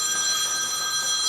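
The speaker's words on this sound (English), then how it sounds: "It's a phone that never stops, does it" A telephone rings steadily with a sustained electronic bell tone, loud and continuous, with no one talking over it.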